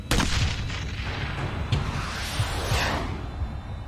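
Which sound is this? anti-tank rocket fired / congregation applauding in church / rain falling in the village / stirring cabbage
anti-tank rocket fired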